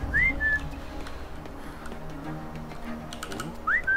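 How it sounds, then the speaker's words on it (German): Two short rising-then-falling whistles in a video game, one at the start and one near the end, over steady clicking of keys and faint game ambience. "So ein Pfeifen."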